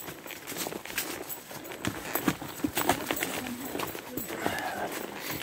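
Horse hooves clip-clop at a walking pace along a rural trail, a steady rhythm of close, moderately loud steps with faint talk in the background.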